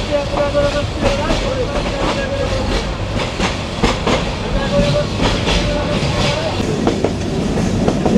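A passenger train between Dhaka and Mohonganj in Bangladesh runs loud and close, with continuous rumbling, rhythmic clickety-clack from the wheels and faint rattles, while voices come through at times.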